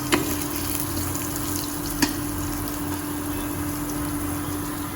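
A constant close sizzle of potatoes frying in oil in a home kitchen, flavoured with bay leaf, cumin and green chilli, with a couple of sharp utensil knocks and no talking.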